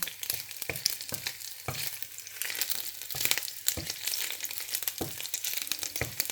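Ginger sizzles in a hot pan, a bright continuous crackle punctuated by repeated dull scraping knocks from stirring, close and moderately loud, with no speech.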